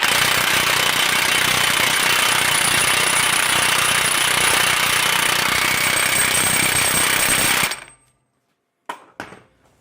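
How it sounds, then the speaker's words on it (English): A cordless impact wrench tightens a hub lock nut on a Tahoe or Yukon front hub, hammering loudly and continuously for about eight seconds before it stops abruptly, followed by a couple of brief clanks. "just use this cordless impact and I'll get it, I'll make it tight"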